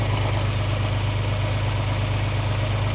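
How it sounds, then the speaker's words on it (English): A tractor engine idles low and steady, pulling a harrow while plowing a field. The rumble stays close and constant with no voices. "the tractor is just idling"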